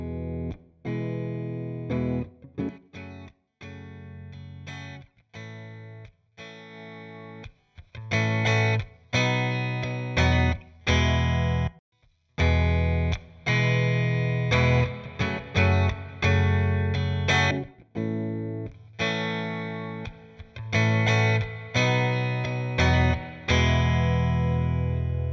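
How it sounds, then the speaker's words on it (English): Electric guitar played through a software Fender amp with spring reverb, bright and twangy with light amp drive, alone as a series of picked notes and chords with reverb tails between phrases. "The classic Fender amp sound has peppered classic pop and rock tracks for over 50 years."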